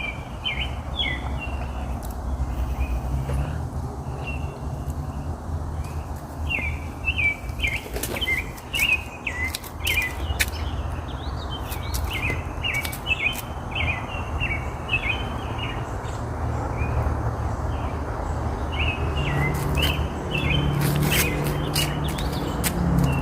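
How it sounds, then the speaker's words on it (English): Outdoor birdsong with repeated chirps and calls spread throughout, moderately close, over a steady low rumble of background noise in a dry pasture with no rain. "Listen to them beautiful birds, they're calling God, telling the Lord to bring some rain"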